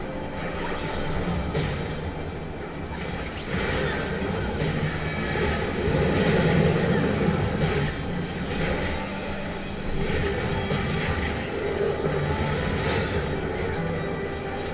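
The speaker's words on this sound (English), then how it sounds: "The green one is gonna have the train." A train rolls along the tracks in the Final Fantasy XIV dungeon The Tower at Paradigm's Breach, a loud steady rumble with faint squeals running for the whole stretch without any talk.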